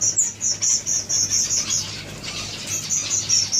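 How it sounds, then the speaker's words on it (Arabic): Red siskins in an aviary in Sulaymaniyah give a run of bright, high chirps in quick repeated bursts, close and fairly loud, with a brief pause midway and no voices. "هاي سيسكن وهاي أيضا سيسكن."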